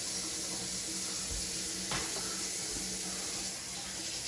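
Steady rush of tap water running into a kitchen sink, continuous and close, with a few faint clunks of dishes or hands in the stream.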